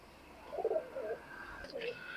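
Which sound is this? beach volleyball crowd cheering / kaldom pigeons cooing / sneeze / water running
kaldom pigeons cooing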